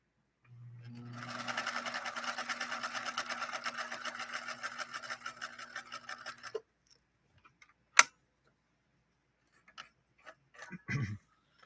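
A 1963 Husqvarna-style CL8 rotary sewing machine stitches a seam in a steady, smooth run of rapid even ticks lasting several seconds, then stops, followed by a few faint handling clicks and a short rustle.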